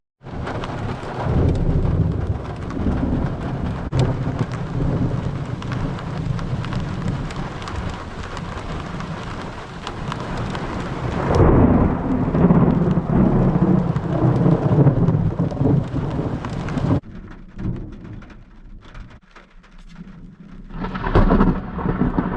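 Heavy rain hammers a campsite at midnight during an electrical storm, with loud rolling thunder swelling and rumbling through it, then the downpour thins before another burst returns near the end.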